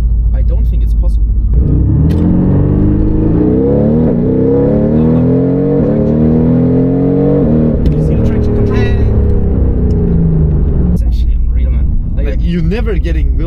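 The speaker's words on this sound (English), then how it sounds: "I went from standing still to full throttle" A Mercedes-AMG GT R Pro in Dubai launches from a standstill at full throttle, its engine note climbing loud and close through rising revs, easing briefly between gears before pulling hard again.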